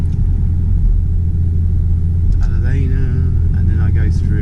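A car climbs through snow-covered mountain villages, its engine and road rumble loud and steady throughout, with a voice talking over the drive in the second half.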